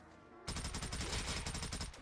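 A rapid burst of automatic gunfire in the Rust Outpost map of Call of Duty Zombies starts abruptly after a brief quiet moment and rattles on loudly at a fast, even rhythm.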